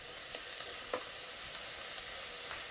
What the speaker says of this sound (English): we'll just saute these until they're nice and translucent